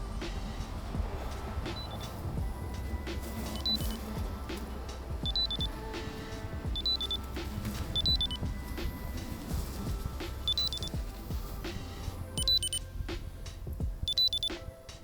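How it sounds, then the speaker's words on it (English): An ATUVOS SlimTag wallet tracker repeats short high beep pairs at a steady interval of roughly one and a half seconds, faint to moderate over a background of footsteps and room noise. "let's see if we can find it when we play the beep sound"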